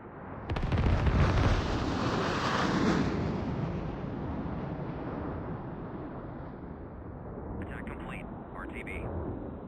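An FA-18 Hornet rocket strike lands in the military shooter Squad: a heavy blast erupts after half a second, followed by a long, deep rolling rumble that slowly fades, with a voice speaking over it.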